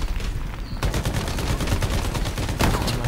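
Dense, continuous automatic gunfire in the Shatterline video game, rapid overlapping shots forming a loud sustained fusillade with a sharp burst partway through and no pause across the stretch.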